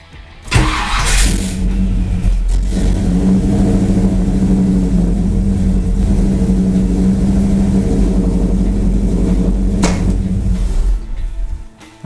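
A Chevrolet Nova with a freshly worked carburetor starts up and idles loudly nearby, its engine rumbling steadily with a rough, uneven note and a noise at the exhaust, before cutting out near the end.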